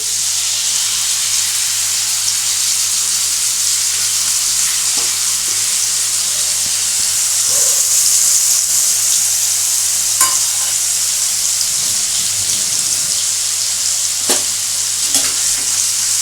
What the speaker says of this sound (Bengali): এবার এই ফিলেটগুলো আমি এর মধ্যে দিয়ে দেবো।